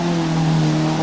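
Car engine at a driving competition hazard in 1985, a steady loud close drone with a strong low hum, revs holding high under load for a brief moment.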